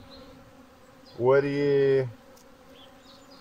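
A honey bee searching for water flies close past the microphone, giving one steady, loud buzz of about a second against a quiet background.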